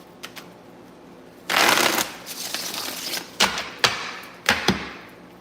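Tarot cards being shuffled in a long riffling burst, followed by several sharp taps and thumps as the deck is squared and set down, close and fairly loud with no talking.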